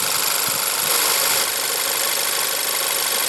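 A 2015 Volkswagen CC's 2.0 L turbocharged four-cylinder engine runs at a steady idle, a loud, even, continuous hum with a slight rattle close to the engine and no talking.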